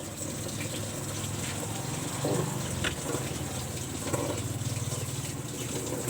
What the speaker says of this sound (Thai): มันก็เริ่ม ปล่อยน้ำเข้าถังได้ตามปกติเลยนะครับ